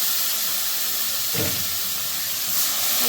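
Water poured onto tomato and spices frying in a pan for tadka dal produces a continuous bright hiss and sizzle, steady throughout with a brief louder surge midway.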